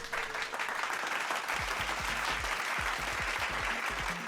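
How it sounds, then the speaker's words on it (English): Sustained applause from an audience, a dense wash of clapping with some low thumping beats underneath, steady throughout. "can we get a clap it up for Marcus?"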